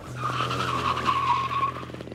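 A go-kart skids sideways through a turn, its tires squealing in a loud, wavering screech over a steady engine drone, close up and without speech.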